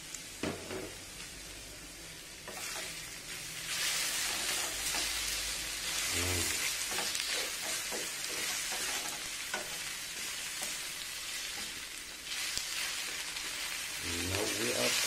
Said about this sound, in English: Now I will put the garlic first.